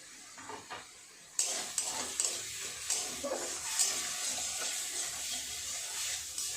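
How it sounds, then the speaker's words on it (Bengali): Ginger, garlic paste and tomato masala frying in a pan for a stuffed pointed-gourd dolma, a quiet start that jumps into a steady sizzle with repeated spatula scrapes and stirring clinks. "মশলাটা ভাজা হয়ে গেছে।"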